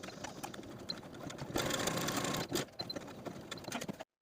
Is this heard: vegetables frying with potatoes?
no